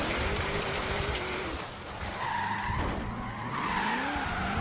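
Car tyres skidding as a car drifts through an entire corner in Forza Horizon 3 with a Formula Drift car pack, a continuous loud screech with shifting engine tones running throughout.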